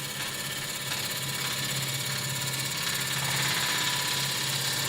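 Wood lathe spinning a small blank at about 1000 RPM, a steady droning whir with a constant low hum that holds even throughout, with no talk over it.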